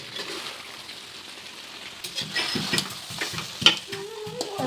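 Drumstick masala gravy stirred in a pan on a stove, with soft scraping spoon strokes and faint bubbling sizzle, a quiet close kitchen sound building slightly toward the end.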